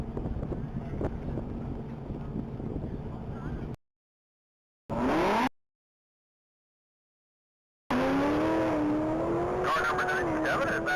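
A silver 2017 Camaro ZL1 race car on a top-speed mile track, its engine roaring loudly with rising pitch under heavy wind noise, broken by abrupt gaps of silence.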